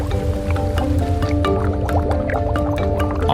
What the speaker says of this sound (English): Sewage-laden Green River water flows in.